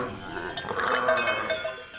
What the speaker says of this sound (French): Les chèvres l'ont toutes suivi.